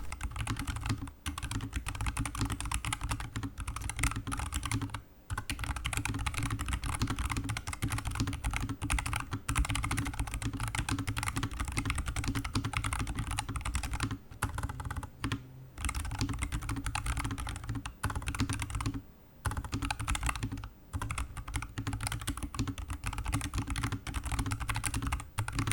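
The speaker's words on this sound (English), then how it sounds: "I also like the clicky typing sounds, but I don't want it to be too loud" Steady typing on a Nuphy Air75 mechanical keyboard with brown switches, a continuous stream of soft clacky keystrokes with brief pauses, close by and fairly quiet.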